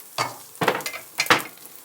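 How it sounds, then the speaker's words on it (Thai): Several bursts of crackling sizzle as garlic is dropped into hot oil in a frying pan, the frying hiss surging and fading in waves. "ใส่กระเทียมลงไปเลยค่ะ"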